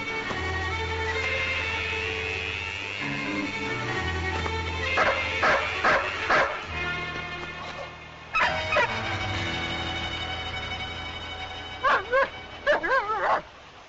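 A dog barks and yips in short bursts, with whimpering between them and a few close, sharp barks in quick clusters toward the end, over a soundtrack of background music.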